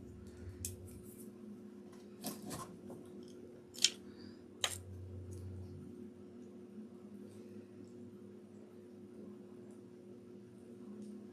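Scissors snipping off the bent ends of small glass bulbs, a few sharp isolated clicks spread over a quiet background with a low steady hum.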